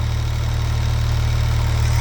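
A no-hood, no-steering-wheel International 284 tractor engine idles steadily while creeping along slowly, a close, loud low-frequency rumble with a continuous even throb and no voices.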